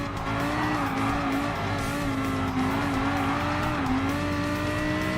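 Race car engine in Gran Turismo Sport on the Circuit de Barcelona-Catalunya: a loud, sustained engine drone holds steady and rises slightly in pitch as the car accelerates, with faint tire noise underneath.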